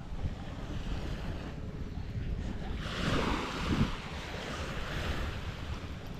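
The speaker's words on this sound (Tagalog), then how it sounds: "Ganito lang ngayon ang alon mga pepo, oh." Sea waves washing onto the shore, a steady rushing surf with one swell breaking louder midway, mixed with wind buffeting the microphone and no talking.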